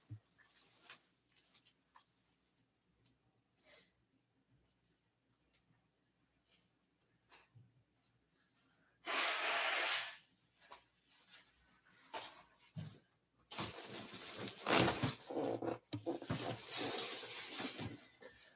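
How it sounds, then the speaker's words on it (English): A person blowing their nose, with a loud broad honking burst partway through followed by a longer, stronger series of blows and sniffs near the end, close to the mic in a quiet room. "Gotta blow my nose now."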